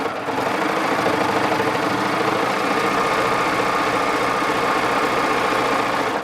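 A Baby Lock serger stitching through four layers of heavy denim. Its motor hums steadily at a loud, even level, and the needles and cutter chatter quickly and evenly for the whole stretch, with no talking.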